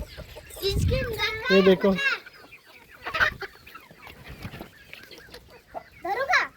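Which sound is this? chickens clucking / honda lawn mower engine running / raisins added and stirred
chickens clucking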